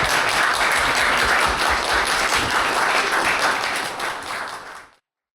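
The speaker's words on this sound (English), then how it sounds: "let's give another round of applause to Josh" Dense audience applause follows an in-conversation event with Josh Aronson and Isabella Marie Garcia: a loud, steady wash of many hands clapping at once, fading out quickly at the end.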